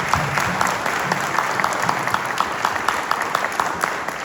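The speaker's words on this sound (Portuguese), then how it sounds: "eu quero uma salva de palmas para essas mães aí" A congregation applauds for mothers at a church service, with steady, dense clapping from a crowd throughout, fairly close and moderately loud.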